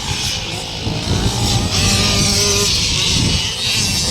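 Small 65cc racing motorcycles in a first-heat race in Passi City, Iloilo, their two-stroke engines buzzing and whining loudly and continuously, close by, with a steady wash of crowd and track noise underneath.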